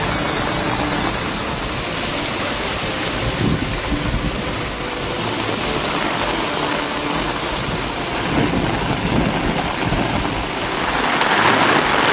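A heavy downpour from a thunderstorm over districts of southern Tamil Nadu roars steadily and densely throughout, with low rumbles of thunder rolling beneath the rain and no voices.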